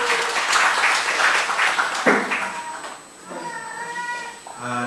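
Congregation clapping during a Korean Wednesday church worship service, a dense burst of applause with a tonal, cat-like vocal cry over it and voices rising through the crowd.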